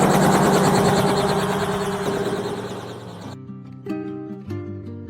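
A loud, close helicopter drone with rhythmic rotor chop, heard during a helicopter ride over New Zealand's North Island, fills the clip, gradually fading and shifting into a steadier, pulsing engine tone.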